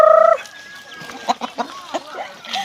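Hill-farm laying hens give a few short, separate clucks and soft calls, fairly close, after a brief high tone at the start.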